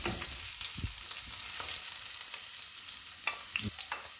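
Onion sautés in a pan with a close, continuous hiss and crackle, punctuated by quick stirring scrapes and spatula taps.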